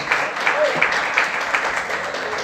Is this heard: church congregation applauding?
yes